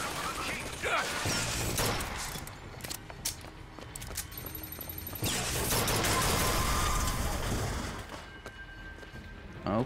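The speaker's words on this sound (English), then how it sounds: "Who's shooting at me?" Bursts of gunfire crackle through a Bioshock Infinite firefight, rapid sharp shots and clattering impacts piling up over a busy, noisy mix for several seconds.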